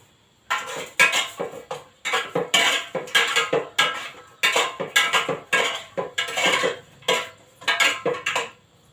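Salt going into a pot of eel stew comes through as a run of quick metallic clinks and scrapes. They arrive in short bursts with brief gaps, close and fairly loud, with no talk.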